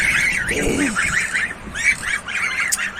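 Geese honk repeatedly and loudly nearby, a chorus of nasal calls overlapping in quick succession, with a brief low voice in between.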